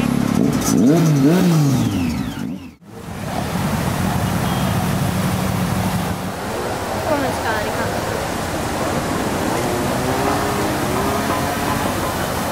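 A motorcycle passes near a castle fountain, its engine pitch rising and falling over steady rushing water and background noise, with people talking nearby.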